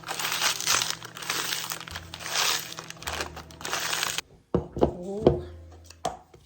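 Fresh strawberries are smushed by hand with a spoon in a bowl, giving close, wet squelching and crunching, first in a dense busy stretch and then in a few separate squishes.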